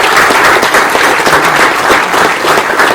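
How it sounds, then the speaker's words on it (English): A team applauds its chef, dense, steady clapping from many hands running throughout at close range, with no voices standing out. "Clap it up, Chef."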